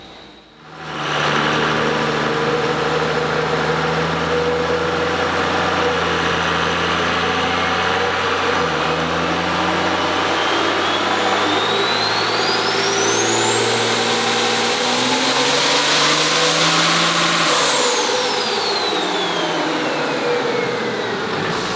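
A twin-turbo Duramax diesel truck with a VP44 injection pump roars loudly on a dyno, holding a steady heavy drone before climbing into a rising turbo whine and dropping off near the end, with no talk.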